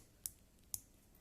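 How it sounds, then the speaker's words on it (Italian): Rotating bezel of a Casio MRW-200HC dive watch with 120-click adjustment, two crisp, faint detent clicks spaced about half a second apart in otherwise quiet surroundings. "questa è una lunetta che ha una regolazione a 120 click"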